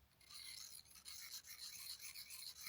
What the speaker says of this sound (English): So with the Swiss Army knife, you can sharpen the blade.